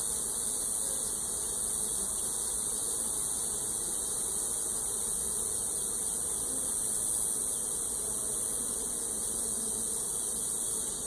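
Honey bees lifted out on a hive frame give off a dense, constant buzz that holds close and loud from start to finish, with no talking.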